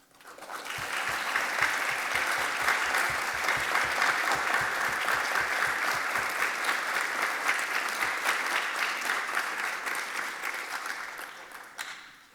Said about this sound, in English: if everyone could join me in a round of applause